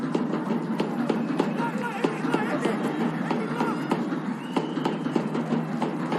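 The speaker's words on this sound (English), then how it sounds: "Crowd into it." A steady broadband roar of a crowd at a Georgia versus Japan rugby match in Tbilisi fills the background with continuous murmur and scattered clatter, while a commentator speaks over it.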